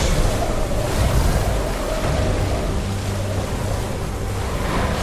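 In the Mortal Shell game, a dense roar of surging waves fills the scene, loud, broad and continuous, with low rumbling swells and windy hiss and no talk.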